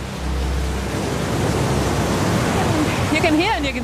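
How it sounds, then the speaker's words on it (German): Rough open Atlantic waves and wind surge around a Viking ship replica, a loud broad roar of water and gusts throughout, with a voice breaking in near the end. "Das Schiff verliert bald den Schutz der Westinseln und wird den Wellen des Atlantiks ausgesetzt sein."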